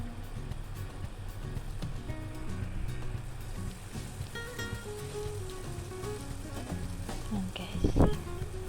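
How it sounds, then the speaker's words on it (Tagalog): Oil and garlic sautéing in a pan for minced pork, giving a steady close sizzle with stirring scrapes and a louder clatter near the end. "kailangan lang natin siyang igisa ng mantika with garlic"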